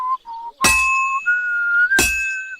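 A loud, high, steady whistle sounds during blacksmithing at a forge in Kingdom Come: Deliverance II, its pitch stepping upward, while two ringing metal clangs from the hammer cut through it.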